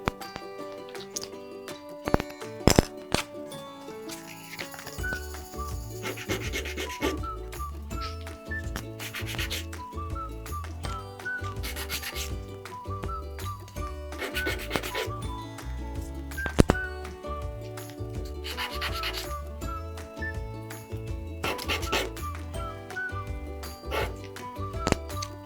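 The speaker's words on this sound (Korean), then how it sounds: "이런 부분은 사포를 가지고 깔끔하게 다듬어 주시면 좋을 것 같습니다" Sandpaper rubs over the rough edges of small wooden automaton parts in a fish shape, in repeated rhythmic back-and-forth strokes, close and steady, with occasional light clinks and a looping background music bed.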